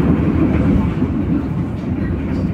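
A Logawa business-class train carriage on an Indonesian railway rolls along the rails with a loud, continuous low rumble and roar, steady throughout, heard from inside the coach.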